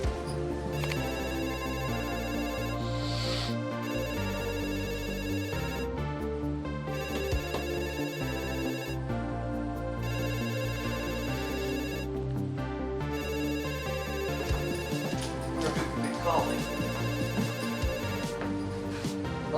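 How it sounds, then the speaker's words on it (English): A phone ringtone plays a repeating melodic pattern for about twenty seconds at a moderate level, with short gaps between rounds, in a home kitchen. "Phone's ringing."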